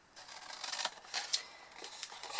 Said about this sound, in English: So what you need to do is cut sideways into the squares.